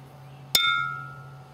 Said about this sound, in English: you set the jar and its contents vibrating by striking the glass with the spoon